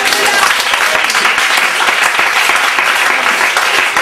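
A church congregation claps in loud, dense, sustained applause that fills the space evenly throughout, with voices faintly mixed in.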